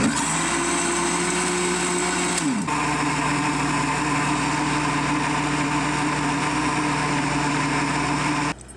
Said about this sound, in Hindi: ग्राइंडर को चलाएंगे हम।